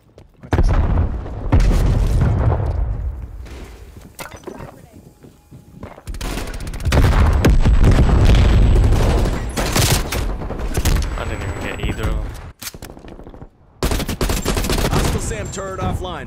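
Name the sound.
sentry turret gunfire in video game Call of Duty Cold War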